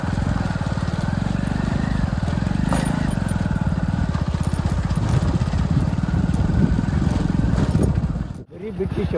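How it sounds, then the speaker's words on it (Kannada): Motorbike engine droning steadily and loud as the rider pushes forward along a road, with a rough buzzing tone throughout; someone talks over it, and the sound briefly drops out near the end. "ನಮ್ಮ ಹುಡುಗ ನೋಡ್ರಿ ಧೈರ್ಯ ಮಾಡಿ ಫುಲ್ ಮುಂದೆ ಗಾಡಿ ಹೊಡ್ತಾನೆ ರೀ"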